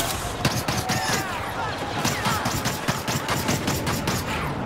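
Rapid blaster fire in Star Wars Battlefront, a dense stream of snapping shots throughout amid battle noise, with faint voices underneath.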